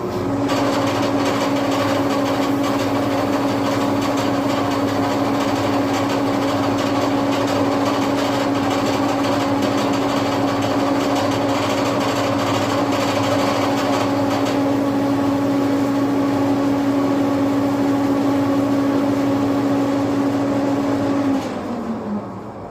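A sprint car piston pin is polished on a spinning machine, making a steady high whine with a constant hum for about twenty seconds before it cuts off. The sound is close and loud, with no talking.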